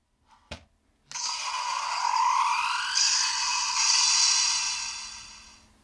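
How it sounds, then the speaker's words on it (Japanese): A Kamen Rider Kuuga Titan Sword toy emits an electronic transformation effect: a click, then a few seconds of bright warbling synthetic tones that rise and fade out. "物体から単体ソードに変化する音が鳴るんだ。"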